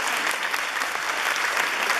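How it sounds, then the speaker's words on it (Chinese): An audience applauds steadily at an award ceremony for a youth recorder ensemble, a dense and even wash of clapping with no talk over it. "来热烈掌声"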